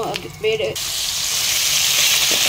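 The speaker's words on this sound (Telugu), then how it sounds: "ఆయిల్ వేడెక్కాక ఆవాలు, జీలకర్ర, కరివేపాకు వేసుకొని అవి బాగా" Mustard seeds, cumin and curry leaves dropped into hot oil, a sudden loud sizzle that bursts in after a brief clatter and hisses steadily, close and alone.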